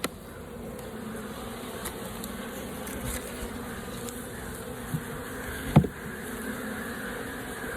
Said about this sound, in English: for your beehive, before you get started, you give them a couple puffs of smoke.